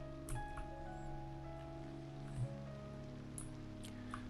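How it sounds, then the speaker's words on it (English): Rain falling in the city-building game Cities: Skylines 2, a soft steady patter on surfaces with faint droplet ticks, quiet and continuous over a low background hum. "yes, it is raining."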